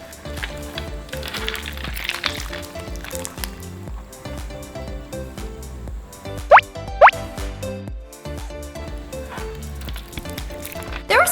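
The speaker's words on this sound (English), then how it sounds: "I really loved all the clicky sounds the charms made in the slime" Fruit charms are squished and stirred through clear slime, giving a dense run of wet plops, squelches and small clicks, with two sharp louder clicks near the middle and no voices.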